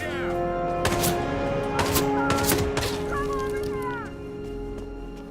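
Gunfire in the video game Hitman 3: several sharp shots and quick bursts crack out in a rapid, irregular string, mixed with game voices and tonal sound effects, then fade into a quieter tail.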